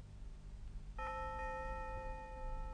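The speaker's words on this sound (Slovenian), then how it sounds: "Si slišal zvonec?" A doorbell rings once, a clear sustained electronic chime that sounds suddenly over a quiet, low-humming room in a 1970 Decameron film and lingers to the end.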